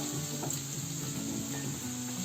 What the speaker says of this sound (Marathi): इथे कांदा किती मस्त फ्राय झालाय ना.